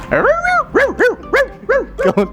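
A voice imitates a small dog barking, giving a string of high, springy yips and short bow-wows in quick succession, loud and close with no other sounds.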